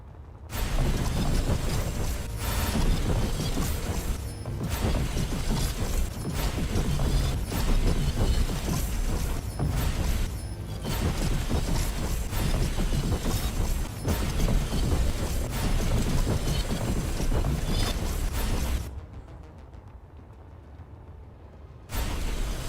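Welding tool in the survival game Space Engineers 2, a long, continuous crackling, rumbling mechanical drone with slight pulsing, loud and steady for most of the stretch before cutting off near the end.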